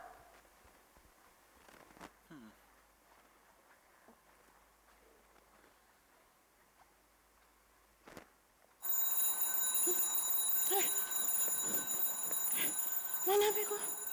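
After quiet moments with faint sounds on a musical stage, a mobile phone bursts into loud, continuous ringing that carries on to the end.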